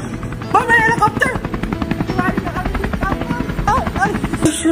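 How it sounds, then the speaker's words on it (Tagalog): Helicopter rotor thudding steadily overhead at close range, with a voice talking over it and music playing as well. "helicopter"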